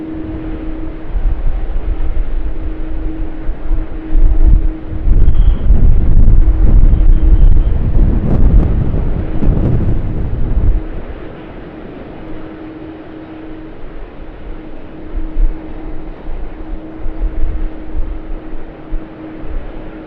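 An aircraft departs runway 25 at Sydney Airport. Its low engine roar swells loudly over several seconds and then fades into a softer, distant rumble, with wind noise throughout and no speech.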